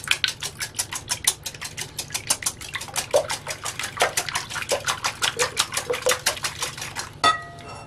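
Five eggs whisked in a bowl for a cheese pie filling, heard as a steady, fast rhythm of close, bright clinks of the whisk against the bowl that lasts almost the whole time and ends with a brief clatter.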